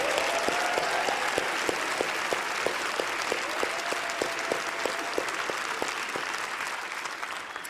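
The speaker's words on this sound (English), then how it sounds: "I just want to give a really big round of applause to our volunteers" Sustained audience applause for event volunteers at a closing session, a dense steady wash of clapping that holds evenly throughout, with faint crowd noise and no clear speech.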